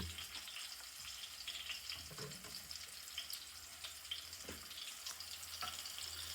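Raw green tomato sabzi frying in a pan, a soft continuous sizzle with faint crackles and a few scraping stirs, fairly quiet and without talk.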